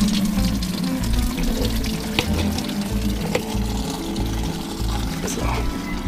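A garden tap runs water for watering plants, a continuous splashing flow that holds steady and close throughout, with faint background sounds.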